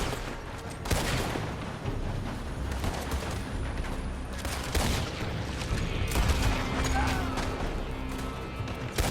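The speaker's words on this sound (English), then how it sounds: "They're shooting from that building." Gunfire rings out from a building in Red Dead Redemption 2, a dense, continuous barrage of overlapping shots and bursts at close range, loud throughout with no speech heard.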